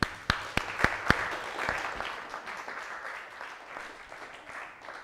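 A meetup audience gives a round of applause: a few sharp, loud individual claps open it, then softer, steady clapping carries on and fades gradually.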